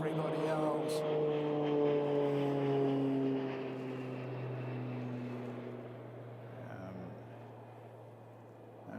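An aircraft flies past near Christchurch Airport, its steady engine drone sliding lower in pitch as it passes and then gradually fading away.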